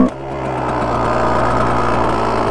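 A Kawasaki KX 125 two-stroke motard engine fires up and settles into a steady, buzzy run, a continuous close mechanical drone with a rattly edge that holds even level throughout.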